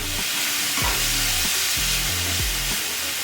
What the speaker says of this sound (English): Stir it around, get it all seared up, and it kind of gets to a yellow color